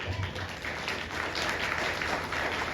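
A church congregation claps for Jesus during a Hindi-language sermon, a steady, dense wash of applause filling the hall at moderate loudness with no voices standing out.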